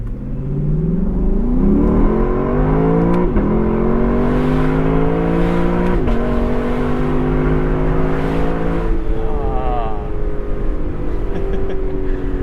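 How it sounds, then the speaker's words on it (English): A Lexus LC 500 convertible's 5-liter V8 in manual mode, Sport Plus, revs up through rising gear pulls with sharp shift breaks, a loud, close, throaty engine note climbing and dropping repeatedly. "let's experience some more of this 5-liter V8. Manual mode, Sport Plus."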